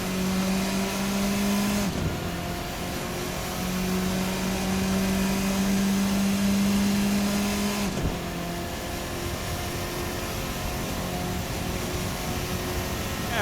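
A Formula RSS 4 open-wheel race car of about 180 horsepower in a racing sim runs at a steady high-revving engine drone, with two sharp gear shifts that briefly drop the pitch before it climbs again.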